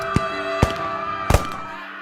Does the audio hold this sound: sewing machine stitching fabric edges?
no